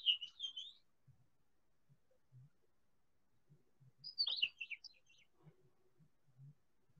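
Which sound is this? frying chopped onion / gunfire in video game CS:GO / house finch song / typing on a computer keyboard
house finch song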